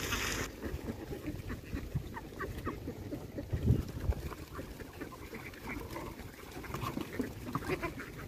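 A large flock of Khaki Campbell ducks on a farm, around 1300 to 1500 birds, with dense overlapping quacking and rustling that holds steady throughout and swells briefly near the middle.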